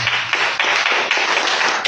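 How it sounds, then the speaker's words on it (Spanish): Audience clapping at a church sermon, a dense, steady wash of many hands close by that stays loud and even for about two seconds, with no voices over it. "Pero un aplauso que viene ahí."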